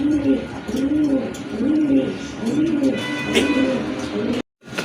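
A pair of Giribaz pigeons with khoira-coloured necks coo in a rhythmic series of close, repeated rolling calls, with faint chirps and a brief cut near the end.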